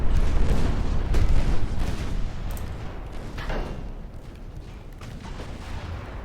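Warships trade naval gunfire in the Ultimate Admiral Dreadnoughts battle game, heavy booming salvos loud at first, then fading into a distant rolling rumble with scattered softer shots.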